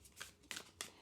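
Fairies oracle cards with a lightly coated matte finish are shuffled overhand, giving three quiet, close, soft slapping bursts in quick succession.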